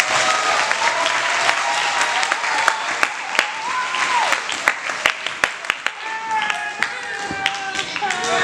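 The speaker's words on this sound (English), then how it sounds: "These girls deserve a round of applause." Audience at a recreational football and cheerleader banquet applauding the cheerleaders, dense steady clapping with sharper individual claps standing out toward the end, no talk over it.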